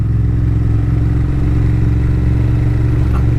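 A motorcycle rides steadily through town, its engine a continuous, close, low drone with a constant loud rumble and no clear shifts in revs.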